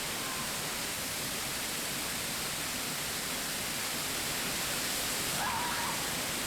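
Broad, constant roar of a waterfall in Fiji, loud, steady rushing water with no break, heard close and alone.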